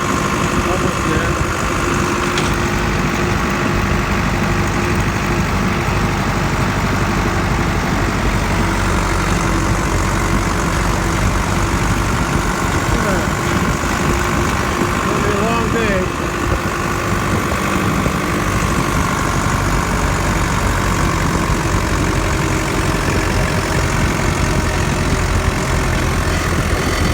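Tractor engine hauling big round hay bales from a hayfield, a loud, steady low diesel rumble with vibration, continuous and close throughout, with occasional talk beneath it.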